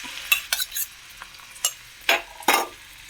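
Crushed shallots and curry leaves hitting hot oil in a pan, with several short bright bursts of sizzle and a few clinks of a spoon, spaced irregularly against a faint crackling background.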